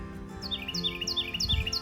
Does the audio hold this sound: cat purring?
no